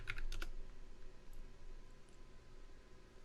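Quick keystrokes on a computer keyboard while a password is typed to sign in, a few faint clustered taps at the start followed by low room hum.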